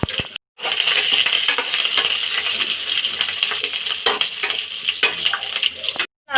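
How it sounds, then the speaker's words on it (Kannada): Whole spices being tempered in hot oil for a vegetable Bombay saagu, sizzling loudly and steadily with dense crackling spatters, close up, broken by a brief silent gap near the start and some clinks. "ಇವಾಗ ಒಗ್ಗರಣೆದು ಎಲ್ಲ ಸಾಮಗ್ರಿಗಳನ್ನು ಹಾಕ್ತಾ ಇದ್ದೀವಿ ನಾವು. ಇದನ್ನು ಸ್ವಲ್ಪ ಫ್ರೈ ಮಾಡಬೇಕು."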